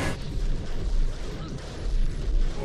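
Rapid gunfire from a scene in the film Red Dragon, a dense run of loud, booming shots layered over a constant rumble of film sound for the whole stretch, with a voice faintly present.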